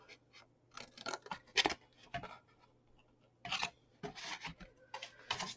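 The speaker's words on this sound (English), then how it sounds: "take your scissors now when it's flat and cut in" Scissors snipping through card while making a Christmas gift box: a series of short, crisp rasping cuts in irregular clusters, close and fairly quiet, with brief pauses between strokes.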